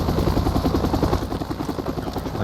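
A helicopter in a video game gives a loud, steady rotor chop with a rapid thumping rhythm, lasting throughout.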